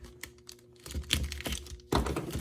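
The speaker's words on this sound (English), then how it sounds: "So let's go and cut open the bag." A plastic bag holding a Fancart FM Bluetooth car transmitter is cut open with a few crisp snips and rustles, close and fairly quiet, with no talking.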